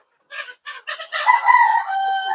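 Egyptian Fayoumi chickens cluck in a few short bursts, then a rooster lets out one long, loud crow up close.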